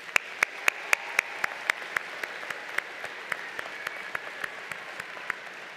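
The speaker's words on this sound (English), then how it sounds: "Everyone, please join me in applauding these outstanding graduates." Slow, evenly spaced claps ring out at a college graduation ceremony, a sparse rhythmic series of sharp individual hand claps over a faint hall background, fairly quiet and alone.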